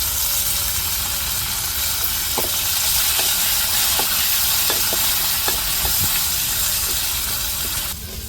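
Spice tempering sizzles steadily in hot oil as it is sautéed for a curry, a continuous bright hiss with small scattered pops and light clicks, close and loud throughout with no talking.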